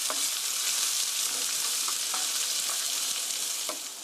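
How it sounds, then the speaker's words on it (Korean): Onions stir-frying slowly in a pan for curry rice, giving a steady close sizzle with light, occasional scrapes of gentle stirring, no speech. "이렇게 너무 자주 젓지 말고 살살 저어가면서 천천히 볶아주세요"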